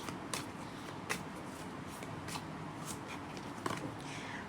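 A mini tarot deck handled close up, soft repeated card slides and shuffling riffles with a few sharper flicks, steady and quiet with no talk.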